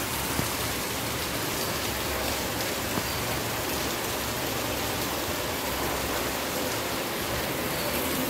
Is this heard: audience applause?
no